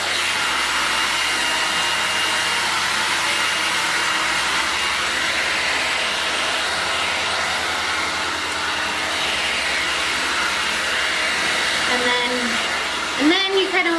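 A hair dryer blows continuously and loudly while hair is dried with a round brush. The steady rushing hum shifts slightly in pitch, and a few brushing and handling noises come near the end.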